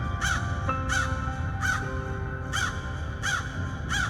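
A crow caws six times in an even, repeated rhythm, each harsh call clear and fairly close against a quiet background hum.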